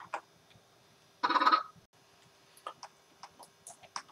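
A chicken clucks in SkyFactory 4, a Minecraft modpack: one short, louder burst of clucking, then scattered faint clicks and ticks in an otherwise quiet stretch.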